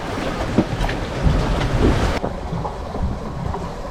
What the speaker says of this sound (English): I'm surfing down some waves.